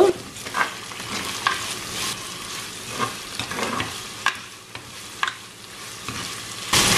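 A spoon stirs breadfruit stir fry with curry leaves and small green chillies in a pan, giving repeated scraping strokes over a constant sizzle, close and fairly loud, with no talking.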